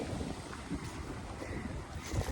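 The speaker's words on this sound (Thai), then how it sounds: "พอเดินเล่นตรงนี้ก็จะได้ยินเสียงลำธาร คูน้ำนี่แหละ" A small stream flows with steady rushing water, continuous, a soft broad wash of sound with no voices.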